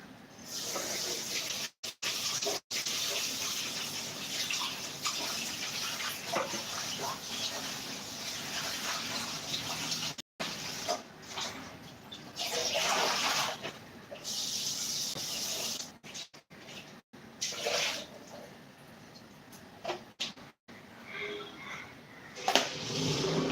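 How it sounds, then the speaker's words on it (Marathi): Tap water runs over coriander being washed, a continuous close hiss and splash that shifts in texture as the leaves are rinsed, cut by a few brief dropouts. "कोथिंबीर स्वच्छ धुवून घेते."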